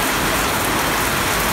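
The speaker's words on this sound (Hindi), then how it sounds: "और काफ़ी तेज़ बारिश हो रही" Heavy rain pours down steadily, a dense close hiss of drops on surfaces that fills the whole short stretch without any talking.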